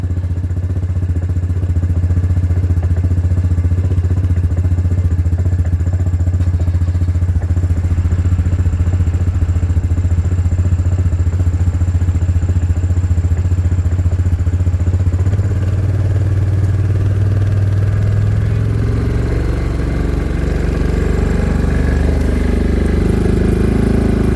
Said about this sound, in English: I'm giving it a little bit of gas while he backs up.